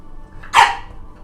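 A single sharp dog bark rings out close and loud over a quiet background.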